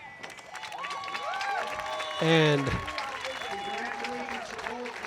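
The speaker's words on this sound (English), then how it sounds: "Breck fans clapping a little bit more excitedly at this result." Fans of the Breck boys' high school soccer team clap steadily from the stands at the end of a game against St. Paul Academy, a moderate crowd applause that runs throughout, with a commentator speaking over it.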